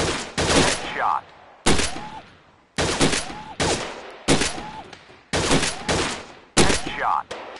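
Gunfire from a shooting video game at a gun club setting, crisp bursts of shots arriving in about six separated volleys, loud and close, each followed by a short ringing tail, with no talking over it.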